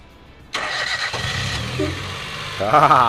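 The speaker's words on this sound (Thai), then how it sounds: "เดี๋ยวขอสตาร์ทเครื่องก่อนแป๊บนึง" A car engine cranks with a key and catches abruptly, then runs with a rough idle before a brief rev near the end, close by.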